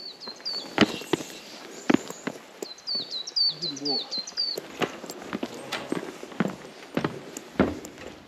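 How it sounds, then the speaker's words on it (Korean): Clear mountain birdsong of high chirping trills rings out nearby in Woraksan National Park, South Korea, mixed with crunching footsteps on a hiking trail and occasional quiet voices. "새소리 좋다"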